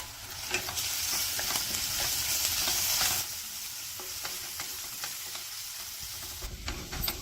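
Ginger, garlic, chili and turmeric paste sautéing with browned onion, cumin and dried red chilies, a dense sizzle with frequent spoon scrapes that quietens partway through.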